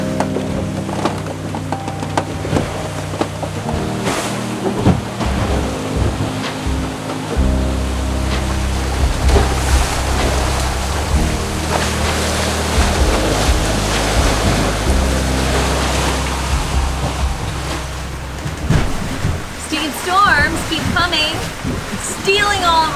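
Strong gusty wind buffets a sailboat in a squall, with waves and surf rushing around the hull as the wind builds to about 25 knots; the sound is loud and continuous, with heavy wind noise on the microphone.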